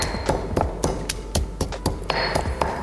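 Garlic and chili are crushed finely in a mortar, the pestle striking in a steady series of sharp, close taps and thuds, about three per second, with no talk.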